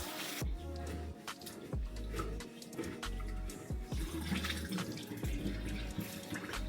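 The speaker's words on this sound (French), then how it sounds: "Lui, je le nettoie 4-5 fois. Jusqu'à temps que l'eau soit comme le plus claire possible." Rice being rinsed under a running tap, washed several times until the water runs clear: a steady close stream of water with splashing and swirling in the bowl, continuous throughout with no talking.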